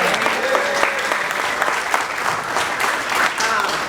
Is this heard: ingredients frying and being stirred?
no